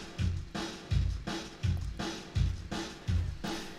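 Audio crushed into a squashed, smashed output by heavy processing, pulsing in a steady beat of about eight thumping hits with dense, gritty noise between them, loud and even without any talking.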